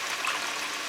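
Coconut milk strained into a measuring cup while cooking a curry: a brief, soft, steady trickle of liquid pouring close by, with no voices.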